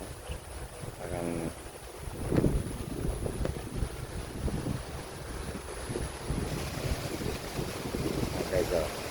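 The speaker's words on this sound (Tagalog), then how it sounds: "Malakas ng hangin guys." Strong, gusty wind buffets the microphone outdoors on a goat farm in typhoon-like weather, producing a steady low rumbling roar with swelling gusts, and faint voices are briefly audible beneath it.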